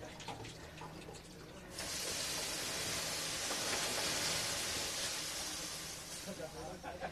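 Water poured onto hot sauna stones releases a loud, steady hiss of steam that swells and holds for several seconds, with people talking faintly before and after.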